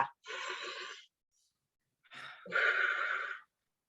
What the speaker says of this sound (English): pause and take 3 deep breaths in and out